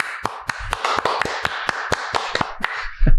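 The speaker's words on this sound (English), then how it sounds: "You applaud for that." Sparse audience applause of a few people, with sharp individual claps landing in an uneven rhythm, close and fairly loud, and no talk over it.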